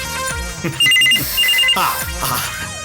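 A telephone rings in bursts of bright electronic trilling, two short rings heard amid background music and other sounds.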